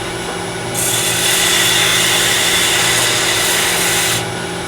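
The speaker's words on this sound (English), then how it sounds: "Now, the sanding stick." A sanding stick rubs briskly back and forth over a small wooden miniature vase, a continuous close scratchy sound lasting a few seconds.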